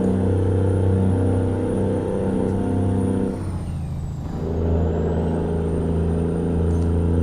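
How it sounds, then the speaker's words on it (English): Truck engine braking in American Truck Simulator on a Ruda Glider hauling a heavy B-train: a loud, steady low droning rumble of the engine that dips briefly in the middle before resuming, with no talk. "Now I see why you drive this truck so much, Robert. Like the Jake brake sound in it."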